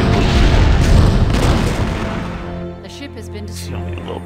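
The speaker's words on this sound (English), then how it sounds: "The ship has been destroyed." A starship explodes in the space combat game Star Trek Bridge Commander Remastered, heard as a loud, rumbling, sustained blast that dies away into quieter crackling debris and distant pops over several seconds.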